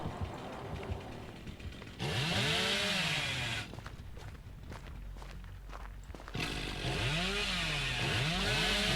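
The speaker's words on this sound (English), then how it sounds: "That chainsaw is everywhere." A chainsaw in Dead by Daylight revs in repeated rising, swooping bursts, loud and close at first, dropping away briefly, then roaring back, with footsteps and game ambience mixed in.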